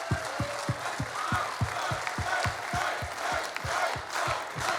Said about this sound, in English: You deserve all the applause.